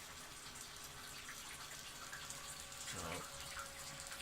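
Wort recirculating through a home-brewing mash setup for a Pilsner makes a steady, faint trickling and splashing of liquid throughout, with a brief word spoken near the end.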